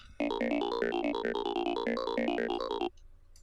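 A bright FM synthesizer tone plays a quick, rhythmic sequence of short notes, clean and close, stopping abruptly after about three seconds.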